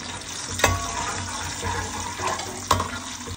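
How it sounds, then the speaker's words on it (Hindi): Peeled almonds and raisins fry in ghee with a soft continuous sizzle, broken by a couple of louder scraping stirs of a spoon in the pan. "थोड़ी देर घी में फ्राई करने के बाद ड्राई फ्रूट को आप निकाल लें।"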